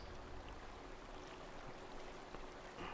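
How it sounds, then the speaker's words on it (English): Steady rushing water in Skyrim, a dense broadband wash like a shallow stream flowing continuously at fairly loud level, with no talking over it. "Wow, that water's really loud."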